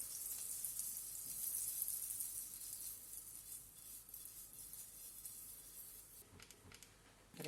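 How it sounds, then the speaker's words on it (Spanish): A little butter sizzles in a frying pan over the lowest heat, ready for a quinoa pancake, giving a faint, even, high hiss that holds steady throughout with soft scraping near the end. "agregamos un poquito de mantequilla al sartén"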